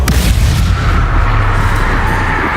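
The Bombarda spell explosion in the video game Hogwarts Legacy, a loud, deep, rumbling blast that fills the whole moment with a sustained booming roar.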